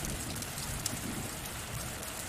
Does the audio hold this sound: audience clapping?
no